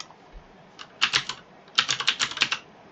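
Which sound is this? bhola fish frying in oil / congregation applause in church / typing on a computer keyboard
typing on a computer keyboard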